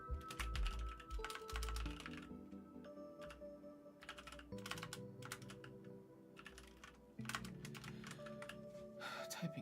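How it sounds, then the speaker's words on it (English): Keys clatter on a computer keyboard in uneven bursts of quick clicks with short pauses, close and quiet, under a low electronic hum, while working on an Arduino-based RC transmitter. "Typing's hard."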